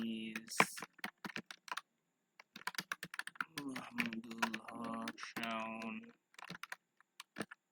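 Quick, irregular clicks of someone typing code on a computer keyboard, a steady close patter mixed with someone talking over much of it.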